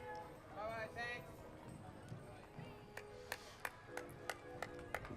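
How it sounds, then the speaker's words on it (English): Horse hooves clip-clop along a Fourth of July parade route as a crowd murmurs and talks, with a run of sharp, evenly spaced hoof taps growing more distinct toward the end. "Nothing like that horse hoof sound, Robin."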